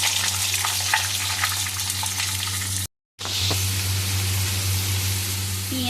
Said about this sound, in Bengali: তারপর এর মধ্যে দিয়ে দিচ্ছি পেঁয়াজ